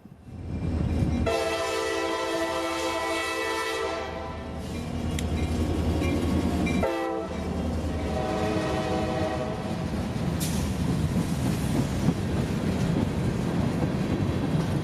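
A CSX freight train led by an EMD SD70MAC locomotive, with more EMD units trailing, passes with a loud, continuous rumble and horn blasts. The wheels clatter under a steady roar that stays strong to the end.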